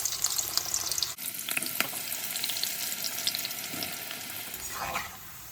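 Onions fry in hot oil for chicken sambal, a dense steady sizzle close by with a few light stirring knocks, fading slightly at the end; no voices.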